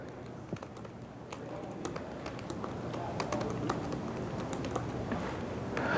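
Scattered soft key taps on a computer keyboard come in uneven bursts against a quiet room hum, faint and close.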